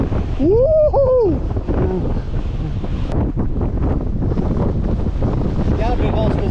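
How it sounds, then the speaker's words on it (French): Strong wind over the sea during a mountain bike ride in the hills of Rosas, Spain, roaring and buffeting the microphone continuously, with a person's voice rising and falling over it near the start. "Regarde le vent, ce que ça fait sur la mer."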